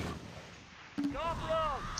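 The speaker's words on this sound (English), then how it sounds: "Got their mortar going as well." Mortar fire in the war game Close Combat: Last Stand Arnhem, one dull thud followed by whistling shell sounds over low battle rumble, with a voice in the background.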